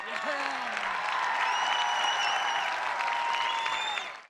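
A crowd at a schoolgirls' rowing regatta applauds a crew lifting the trophy, steady sustained clapping with some cheering and whistles, loud and continuous before tailing off at the end.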